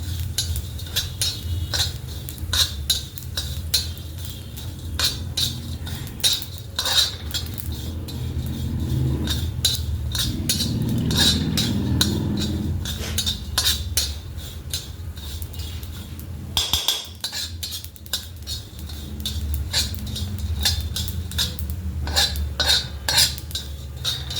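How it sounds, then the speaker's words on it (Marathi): Poppy seeds are dry-roasted in a pan and stirred constantly, producing rapid rhythmic scraping and metallic clinks of a spatula against the pan at close range. "आता खसखस पण छान भाजून घ्यायची आहे"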